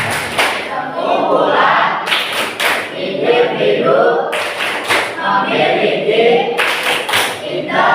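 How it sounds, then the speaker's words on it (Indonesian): A classroom of students performs a tepuk clapping chant about social groups, with sharp group claps landing in regular rhythmic bursts between loud chanted voices, close and energetic. "Tepuk pengertian kelompok sosial."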